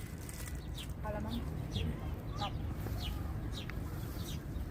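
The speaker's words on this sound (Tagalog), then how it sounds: "Yan, huni na yung mga ibon." Outdoor birdsong at a park in the afternoon, with a few short chirps and calls spaced across the clip over steady low background noise.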